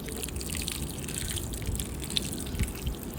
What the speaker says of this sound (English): And you also need to sprinkle some water